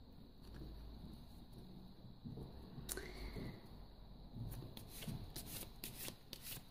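Belline oracle cards being shuffled for a five-card spread, a soft riffling patter that comes and goes, then denser, quicker card flicks toward the end, fairly close and quiet.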